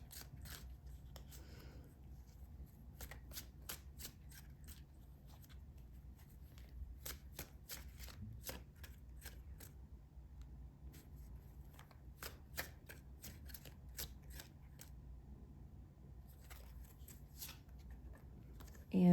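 Tarot cards being shuffled by hand, soft quick riffling and flicking bursts repeating irregularly at close range in a quiet room, with no talking.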